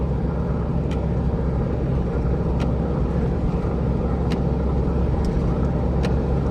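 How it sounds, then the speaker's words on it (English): Car interior while overtaking another car on a road during vehicle testing: a steady, loud engine and road rumble with wind noise, continuous throughout with a few faint clicks. "Let me get past this car real quick."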